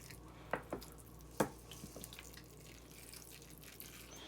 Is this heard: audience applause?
no